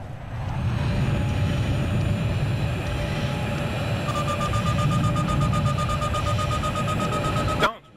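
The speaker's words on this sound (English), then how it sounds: "Sounds weird when a jet flies over your head." In Battlefield 3, a jet passes overhead as a loud, sustained engine roar over a steady rumble, with whining tones and a pulsing beep joining midway before the sound cuts off abruptly.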